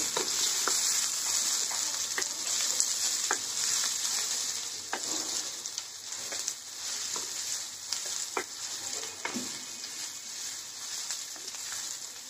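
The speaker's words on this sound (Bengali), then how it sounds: "পেঁয়াজ কুচি দিয়ে ভালো করে ভেজে নিতে হবে" Chopped onion fries in a pan with a steady, dense sizzle, broken by scattered clicks and scrapes of a spoon stirring, close and continuous throughout.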